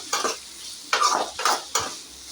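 Grated coconut and cashews are stirred in a hot pan, four quick scraping, sizzling strokes of a spoon against metal, close and fairly loud, with brief quiet gaps between them.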